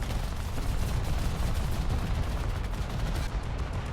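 Dense, continuous rapid gunfire in a War Thunder naval battle, a loud, unbroken rattle of shots over a low rumbling engine and battle noise.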